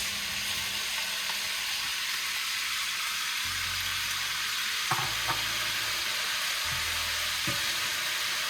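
Potatoes sizzling in a hot pan with sausages and onions while cooking peperonata, a steady close frying hiss with occasional stirring scrapes and low clunks of the pan.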